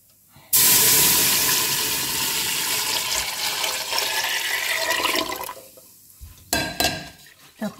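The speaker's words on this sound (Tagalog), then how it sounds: "Okay, next, ilagay naman natin ng milk." Milk is poured into a pan for a rice-with-bechamel white sauce, a loud splashing pour that runs for several seconds and then gives way to a few softer clinks and stirs.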